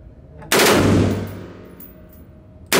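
A short-barreled machine gun chambered in 7.62x51 mm fires a single loud burst outdoors, a sharp blast with a long rolling echo decaying over about two seconds, then another shot begins at the end.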